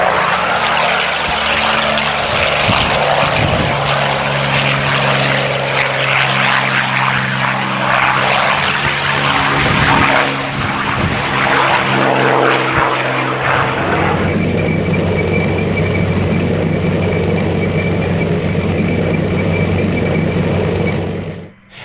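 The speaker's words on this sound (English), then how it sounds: "several Allied fighter aircraft take to the skies for an offensive patrol" Several WWII Allied propeller fighter aircraft take off at an airshow reenactment, a loud, steady engine drone that holds throughout, then shifts to a lower, smoother tone partway through as the planes climb away.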